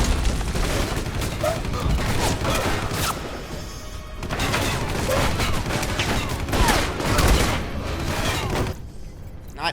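Rapid, dense gunfire in the video game Alpha Protocol, with loud, sustained bursts of shots and crashing impacts, a brief lull near the midpoint, and a voice speaking faintly underneath.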